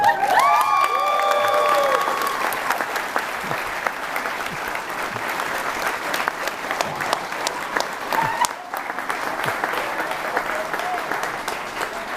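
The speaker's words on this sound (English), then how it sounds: "Mr. and Mrs. Allen, please welcome me in cheering for this beautiful couple, even louder than you did when the Bucks won" Applause and cheers for a newly married couple at a Wisconsin wedding ceremony: steady, dense clapping from a gathered crowd that carries on for several seconds, with a few whoops and voices mixed in.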